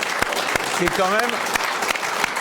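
Studio audience applauding for the TV show's teams, a steady wash of clapping with a few sharp claps, while a voice speaks briefly over it partway through.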